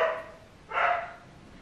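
A dog barks indoors, two short loud yelps separated by a brief pause, heard alone with no talking.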